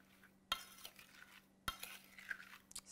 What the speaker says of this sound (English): Stir that around.